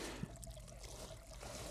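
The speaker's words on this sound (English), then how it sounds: "I can hear water tinkling" Water trickles softly into a drain beside a hedge line in a Dorset valley, a faint, steady dribbling held low under light outdoor background noise.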